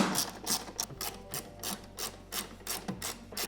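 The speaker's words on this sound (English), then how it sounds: "Then using the T25, we can get these tightened up." A T25 driver tightens factory screws while Catalyst running boards are installed on a vehicle, giving about ten short rhythmic ratcheting and rasping bursts, close and fairly quiet, with no talking.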